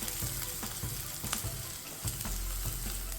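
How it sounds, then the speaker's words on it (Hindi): Onions and dal sautéing in a pan over medium heat give a steady, close sizzle with soft stirring scrapes spaced through it, with no talking. "तब तक इसे सौते करेंगे मीडियम हीट पे।"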